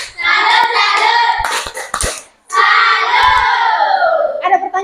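A classroom group gives a rhythmic salute clap together, with a sharp burst of hand claps between stretches of loud children's voices chanting and shouting in unison.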